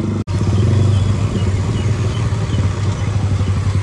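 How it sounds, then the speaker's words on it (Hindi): A motorcycle exhaust rumbles loud and close with a steady low engine drone, after a brief dropout near the start, on a Sunday morning ride. "एग्जॉस्ट का साउंड एग्जॉस्ट का ही है भाई"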